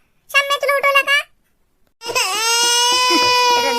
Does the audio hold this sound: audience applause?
no